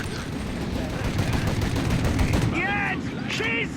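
Rapid gunfire in the game Mafia during a countryside shootout: sustained, close bursts of automatic shots forming a dense rattling barrage, with voices shouting over the later part.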